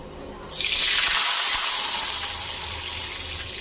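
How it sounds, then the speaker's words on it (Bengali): Water pours into a pan of hot fried spices, cumin and bay leaf, for a sweet raw-mango chutney, setting off a sudden loud hiss and sizzle that fades slowly over a few seconds. "এবার দিয়ে দেব জল"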